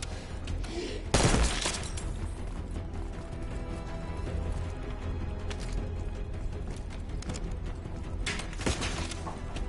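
Gunfire and a grenade blast in the Call of Duty Black Ops 6 campaign, with a loud burst of explosion and rapid shots around the one-second mark over constant dense battle noise and scattered later impacts.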